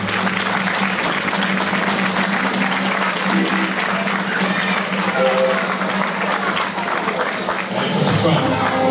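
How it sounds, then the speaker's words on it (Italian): Sustained, dense applause from a large audience at an outdoor carnival festival fills the whole stretch at close range, with crowd noise and voices mixed in. "accogliamolo con un applauso"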